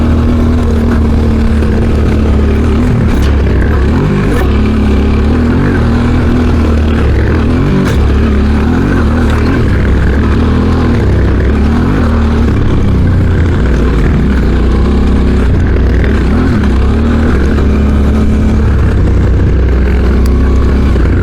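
A 1995 Honda XR dirt bike rides along a dusty trail, its engine droning loudly and continuously with rising and falling revs, heard close from the bike itself.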